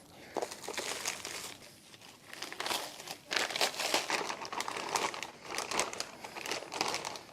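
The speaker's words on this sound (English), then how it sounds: "Let's unwrap this. Right, I'm just gonna start ripping." Plastic wrapping crinkles and tears as a new aftermarket front lip for a 2022-or-later Subaru BRZ is unwrapped, a steady run of close, busy rustling and ripping bursts with no talking.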